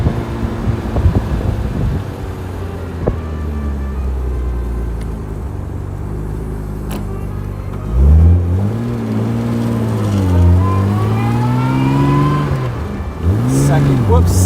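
A Jaguar E-Type engine rumbles low and loud, then rises in pitch as it revs and accelerates through the gears on a freeway. Wind noise is heard throughout, and a voice talks over the engine.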